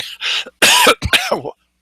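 A person coughs several times close up, harsh rasping bursts with a throat-clearing quality, separated by brief silences.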